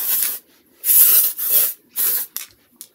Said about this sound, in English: I think it's hairspray